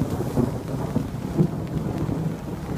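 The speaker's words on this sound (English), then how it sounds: "we continue to see the rain fall" Steady rain pours down with deep rolling thunder rumbling through, a continuous wash of noise with low booming swells.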